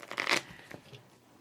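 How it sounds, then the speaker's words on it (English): Playing cards riffle-shuffled at a Magic: The Gathering prerelease table, a quick close burst of fluttering card slaps that ends in a brief soft rustle. "Riffle shuffle, because I'm a monster."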